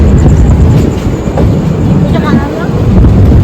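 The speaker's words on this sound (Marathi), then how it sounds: "आपली ट्रेन डिपार्ट झालेली आहे" Steady low rumble of a Holi special train rolling out of Chiplun station toward Mumbai, with faint wheel clatter and wind buffeting throughout, loud and close.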